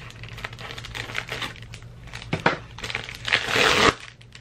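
Scissors cut and crinkle through plastic packaging up close in a quiet room. Short snips and rustles build into a louder crushing burst near the end, with no talking.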